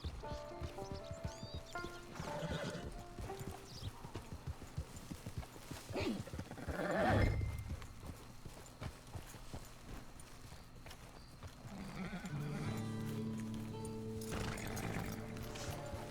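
Rhythmic clip-clop of horse hooves moving at a walk alongside a brief neigh, with a voice speaking at moments and music or ambience in the background, in the video game Red Dead Online.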